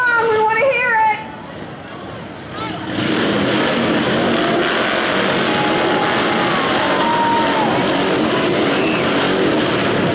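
A vehicle engine revs hard and loud at the Piqua Christmas Parade, a sustained roaring growl after a brief voice-like tone and lull, with crowd noise around it.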